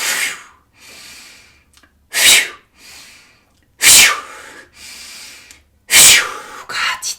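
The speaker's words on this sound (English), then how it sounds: "Deep breath in." Deep, loud, close breaths drawn in and released during a guided meditation, repeating in a slow rhythm of strong inhalations with quieter airy exhales between them.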